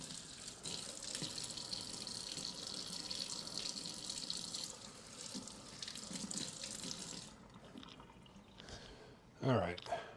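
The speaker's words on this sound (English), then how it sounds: "Wash off this tablespoon here." A kitchen tap runs steadily over a tablespoon being rinsed during meal prep, a close, continuous splashing hiss. The water cuts off and a brief clink of the spoon follows.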